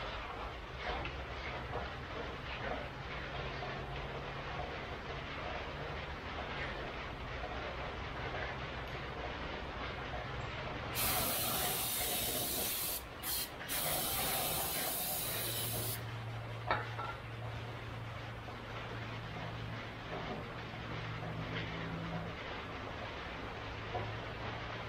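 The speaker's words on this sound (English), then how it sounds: "Just gonna take a little brake clean on the rag and just clean up our surface" Brake cleaner sprayed from an aerosol can onto a rag for cleaning a gasket surface on a Yamaha Bear Tracker ATV engine, a steady hissing burst of about five seconds with a brief break, heard close over a constant low background hum.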